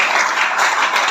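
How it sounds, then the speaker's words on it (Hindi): A yoga class in Durg, Chhattisgarh, applauds itself after kapalbhati practice, a dense burst of many hands clapping close and loud, with no pause. "जोरदार ताली बजाइए अपने लिए"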